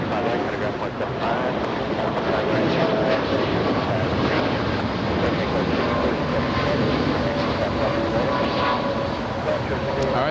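A jet airliner taxis at Los Angeles International Airport, its steady engine roar and hum filling the air loudly alongside wind buffeting the microphone, with no break in the continuous drone.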